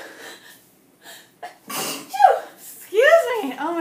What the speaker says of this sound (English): Yeah, that would be my sneeze.